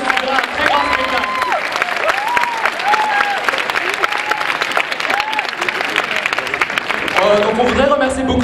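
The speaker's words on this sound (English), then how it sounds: "je voudrais qu'on l'applaudisse très fort" A theatre audience applauds loudly and steadily, a dense wash of clapping while a voice speaks over it on a public address.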